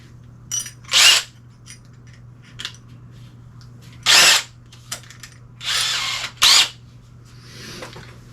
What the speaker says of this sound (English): I'm going to grab my drill.